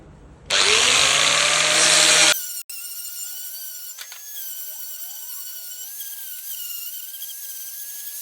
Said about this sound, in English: I just quickly sand it off.